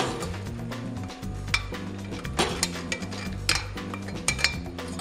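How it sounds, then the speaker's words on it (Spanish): Spaghetti being mixed into a chicken sauce in a pot, with steady scraping and clinking of a utensil against metal and soft wet stirring, close and continuous, no talking. "el siguiente paso es mezclar la pasta con la salsa de"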